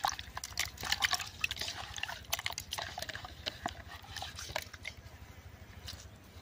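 Tamarind being washed by hand in water, with soft wet squishing, sloshing and dripping sounds in an irregular, close rhythm at low volume.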